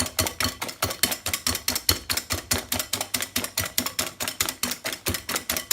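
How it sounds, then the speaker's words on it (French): Eggs and sugar whisked by hand in a bowl, a fast, steady rhythm of sharp metallic clicks and scrapes against the bowl's side, close and continuous with no talking. "Et on continue de fouetter. Et on va bien mélanger le sucre et les œufs."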